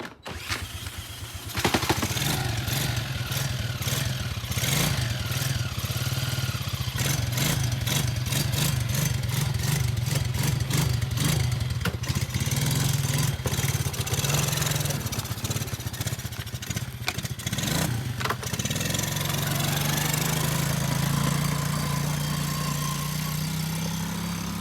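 A restored ATV quad engine cranks over and catches, then settles into a steady, loud idle with a revving mid-range putter that runs on alone for about twenty seconds, its pitch sagging slightly near the end.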